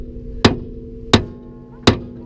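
A hammer strikes a suspension part during coilover and camber arm work on a Honda Civic: three sharp, loud metallic blows land about 0.7 seconds apart, each with a short ringing tail, up close.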